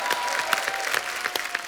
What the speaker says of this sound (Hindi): जोरदार तालियां नेहा के लिए।